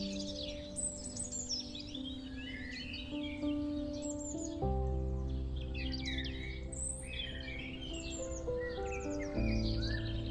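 Macaws calling in the Amazon rainforest, repeated harsh squawking cries scattered across the clip over a sustained tonal music bed, fairly faint and distant.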